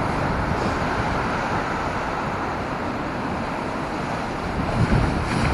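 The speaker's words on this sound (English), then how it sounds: "Sorry about the wind." Wind buffets the microphone in a steady, loud low roar near a shore with waves, continuous throughout with a brief gust swell near the end and no talking.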